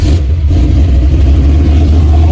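A Chevy box car engine revs hard and loud close by, a dense low rumble that holds steady for a couple of seconds with a brief dip near the start.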